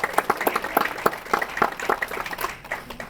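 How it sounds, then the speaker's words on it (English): Scattered clapping from a small audience at a community savings program launch, honoring college-bound children; fairly faint, irregular individual claps that thin out toward the end. "college-bound children a big round of applause"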